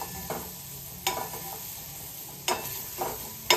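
Garlic, turmeric and red chili stirred in a hot pan with a soft, steady sizzle, while a spoon scrapes and taps the pan in sharp bursts about every second and a half.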